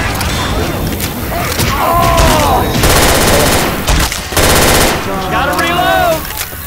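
Rapid automatic gunfire bursts in Left 4 Dead 2 crackle loudly and nearly nonstop, stacking into dense volleys with a few heavier thuds, while a player's voice comes through briefly over the shooting.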